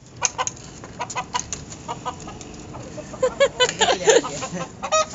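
Desi hens and a rooster cluck repeatedly around a farmyard, with sharp irregular calls close by, some louder bursts near the end, and low background noise throughout.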